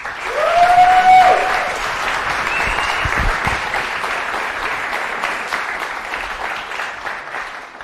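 An audience applauds to welcome a lecturer at a talk on exoplanets, a dense, steady clapping that swells loud at the start and then holds evenly before easing slightly at the end.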